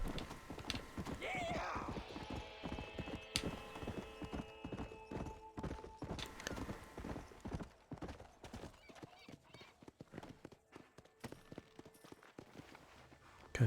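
Horse hooves clip-clop steadily in Red Dead Redemption, a close, rhythmic walking beat that runs throughout at a soft level, with a brief whinny-like tone early on.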